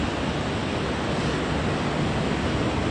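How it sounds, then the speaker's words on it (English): Ocean surf and wind on a hazy morning shoreline make a steady, broad wash of noise, constant and fairly loud with no breaks or voices. "The wind and the waves is calming."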